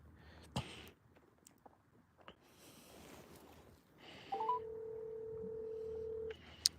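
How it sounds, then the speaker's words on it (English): A telephone being dialed to call in, with a few clicks, a short rising beep and then a long steady dial tone held for about two seconds, clear and close over faint room noise. "Let's phone a friend real quick."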